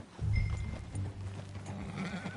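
Horse hooves clip-clopping in Red Dead Redemption 2, a few heavy low thuds of a horse walking close by, followed by a softer rhythmic plod with faint background ambience.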